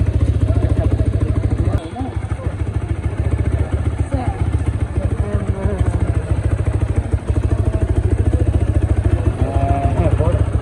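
A motorcycle engine runs with a steady low rumble, close and loud, while people talk over it.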